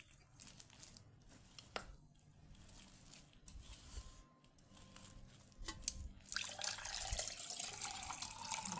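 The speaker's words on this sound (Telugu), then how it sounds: "కొద్దిగా నీళ్ళు వేసుకుంటూ బాగా కలుపుకోవాలి గట్టిగా." Water poured into urad dal papad dough while it is mixed by hand, quiet wet squelches and crinkly handling at first, then a louder pouring splash near the end.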